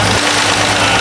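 Loud, steady rumble of a car engine running after being fitted with a new radiator and new exhaust and muffler, a continuous close drone with no breaks.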